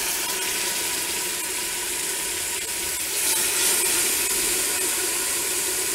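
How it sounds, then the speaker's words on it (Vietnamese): Steady broadband sizzling of chicken frying in hot oil, a constant crackling hiss that swells slightly midway, close and continuous with no voices. "mình sẽ bỏ gà vào đây mình chiên sơ"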